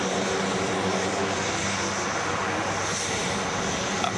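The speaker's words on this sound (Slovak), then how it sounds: "Spartan je naozaj moderné a efektívne taktické transportné lietadlo, ktoré si zaslúži našu pozornosť." An Alenia Spartan tactical transport aircraft flies past at an air show, its propeller engines producing a steady, loud broadband roar that holds evenly throughout with no voices.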